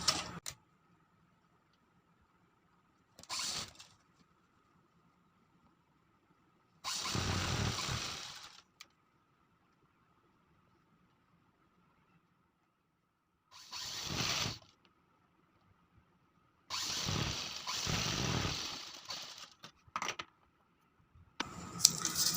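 A sewing machine stitching folded cloth runs in short separate bursts of fast mechanical chatter, with quiet pauses between them, close and fairly loud, no talking.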